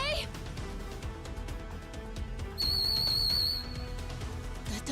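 An old man character in the video game Pirate Yakuza gives a short, shrill whistle lasting about a second, heard among game music and effects.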